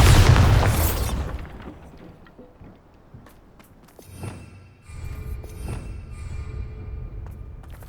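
A Bombarda spell goes off in Hogwarts Legacy with a loud booming blast, then a quieter stretch and a second rumbling burst with crackling debris and magical shimmer.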